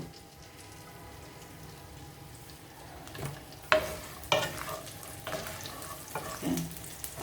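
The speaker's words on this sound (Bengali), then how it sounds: "এখন আমি এর মধ্যে তেল দিয়ে দিব" Chopped garlic starts frying as oil goes into the pan for an ilish and taro curry, a faint sizzle broken by a few sharp clinks and scrapes of a utensil against the pan.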